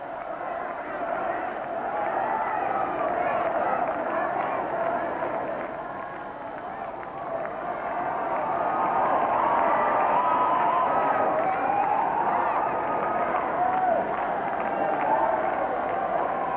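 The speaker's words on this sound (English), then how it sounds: "shaking hands with the crowd of well-wishers who were gathered there" A large outdoor crowd of well-wishers murmurs and calls out as a politician greets them in Downing Street, making a continuous roar of voices that swells slightly toward the end.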